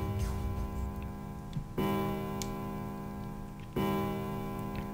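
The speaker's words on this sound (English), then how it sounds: "they heard a bell begin to ring." A clock bell at a central staircase, from the game Nine Hours, Nine Persons, Nine Doors, tolls in slow, evenly spaced strokes about two seconds apart, each ringing out and sustaining over a faint steady background.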